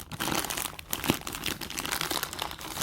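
Crinkly plastic packaging is pulled and torn open by hand around a plush toy house, giving irregular rustling and crunching bursts with a sharper crackle near the middle.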